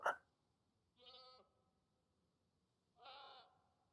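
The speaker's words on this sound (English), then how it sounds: "listen to this little fucking goat chirping" A goat in the survival video game Scum bleats twice, each call short and wavering, separated by a couple of seconds of quiet after a brief sharp click at the start.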